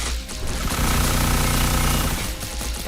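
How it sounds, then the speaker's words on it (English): A dense, continuous barrage of rapid bursts and crackling booms, loud and sustained for a few seconds with no talking. "That's a lot of fireworks."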